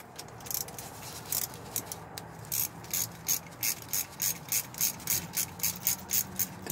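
A hand ratchet backs out the bolts on a car's automatic transmission oil pan, a steady series of close, sharp clicking bursts that quickens and grows more regular toward the end, with no talk over it.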